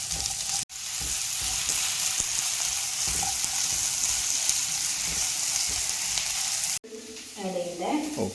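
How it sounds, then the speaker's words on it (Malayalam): Small shallots frying in a pan, a dense continuous close sizzle that runs for most of the stretch, broken by brief cutoffs, with a voice speaking briefly at the end. "ഓക്കെ, ചെറിയുള്ളി ആഡ് ചെയ്തു. ഇനി ഇതൊന്ന് മൂത്ത് വരണം അല്ലേ?"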